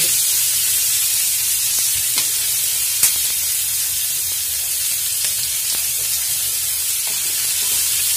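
Chopped onions sizzle steadily in hot oil as they fry toward golden brown for a paneer masala, a dense continuous hiss with a few faint clicks of stirring and no voices.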